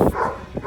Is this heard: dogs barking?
yes